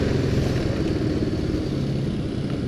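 A motorcycle fitted with a local CKD aftermarket exhaust, ridden in Bandung, gives off a steady, loud low engine rumble that continues unbroken throughout.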